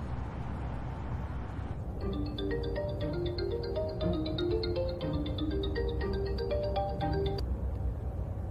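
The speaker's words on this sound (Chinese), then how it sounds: "怎么不接电话？" A mobile phone ringtone plays a bright melodic tune for about five seconds, close and clear, ringing on without being answered before it stops.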